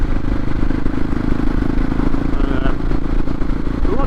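A motorcycle rides along a road beside Ladybower Reservoir in the Peak District, its engine a steady, loud rumble with wind noise throughout the whole stretch.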